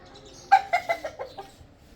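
Caged chickens cluck in a short close burst of about six quick notes that fade out, with no talking.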